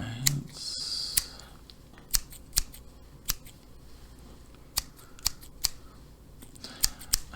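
Close snips of scissors trimming hair on both sides of the head, crisp isolated cuts arriving at irregular intervals over a quiet background.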